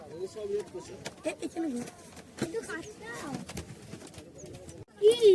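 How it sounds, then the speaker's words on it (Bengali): Birds, including dove-like cooing, call from the riverbank around a small boat on a bird-watching trip at Purbasthali Chupi Char, with several short calls heard near and clear amid excited voices chatting on board. "ওয়াও, ওই দেখো পাখি দেখো"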